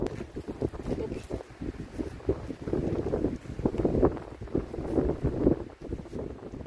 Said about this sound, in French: il y a du vent, je sais pas si vous allez m'entendre